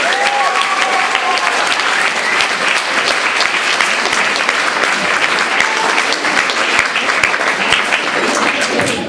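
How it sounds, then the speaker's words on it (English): An audience at a women's folk high school 25th anniversary celebration claps loudly and steadily for several seconds, a dense, sustained round of applause from a large crowd. "let us give them a clap, those who will take the organization forward."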